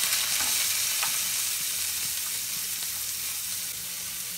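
Onion frying in a pan, a steady broadband sizzle running the whole time with a few faint stirring scrapes, close and fairly loud, no talking.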